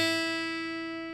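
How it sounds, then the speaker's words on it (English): A guitar's open first string is plucked once and left to ring, a clear single note that fades slowly over about a second with no other sounds. "that's that open first string"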